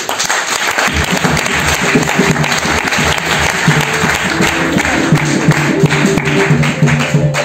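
A church congregation at a Sunday service applauds loudly and steadily throughout, with no talk over the clapping. Low instrumental notes from a band or organ run underneath.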